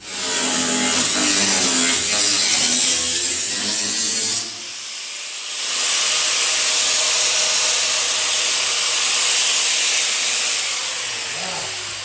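A power tool cuts through a welded tab on a car fender, a loud continuous high-pitched grinding hiss that stops briefly partway through and then resumes steadily, close up, with no voices.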